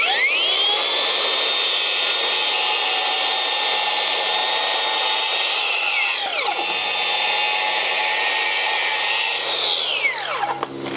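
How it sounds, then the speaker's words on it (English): A power saw runs steadily at full speed while making checkout cuts into a timber fence post, a loud continuous whine that dips twice as the blade loads up and spins down at the end, with no voices. "we're just going to be doing 2 cuts per checkout, one on the top of the line and one at the bottom"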